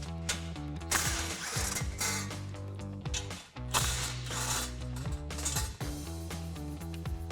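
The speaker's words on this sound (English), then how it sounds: "It's held in by two 16mm bolts. So I've got my 16mm socket to pop these out." A ratchet with a 16mm socket backing out bolts from a bumper plate on a Jeep Gladiator JT, clicking in repeated bursts of quick pawl ratcheting with short pauses, fairly quiet and close.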